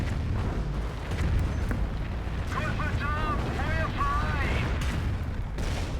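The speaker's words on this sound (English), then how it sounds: "here comes the Calliope barrage" Calliope rocket artillery barrage in the World War II strategy game Company of Heroes, a dense continuous rumble of launches and explosions under a commentator's voice.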